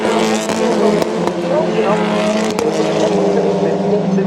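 TCR touring race cars scream past at Oulton Park's Lodge Corner, engines loud and close with rising and falling pitch and brief sharp bursts, under a commentator's talk.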